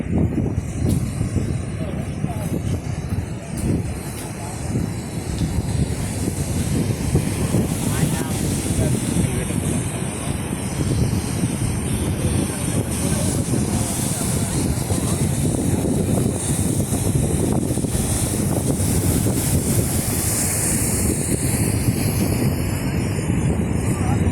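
Wind and surf on a seashore, a steady broad roar with buffeting gusts across the microphone, fairly loud and continuous throughout, with no voices over it.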